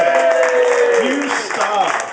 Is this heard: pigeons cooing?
no